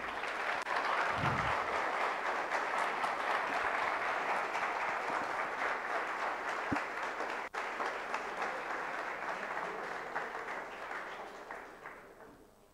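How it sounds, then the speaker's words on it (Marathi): Sustained applause from an audience at a project competition prize distribution, dense and steady, then tapering off toward the end. "जोरदार टाळ्यांचा आवाज झाला पाहिजे."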